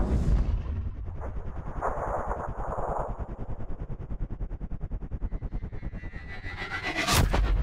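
A sniper rifle shot in the video game Sniper Ghost Warrior Contracts, at Kolchak Harbor, booms loud at the start and rolls into a long echoing tail, with a second sharp crack near the end.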